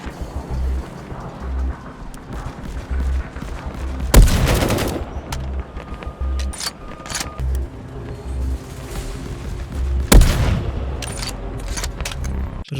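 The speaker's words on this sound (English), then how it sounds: "Oh, he's shooting me." Gunfire in a VR shooter game, with two loud sharp bursts around four and ten seconds standing out over a steady background of rhythmic game noise and soft clatter.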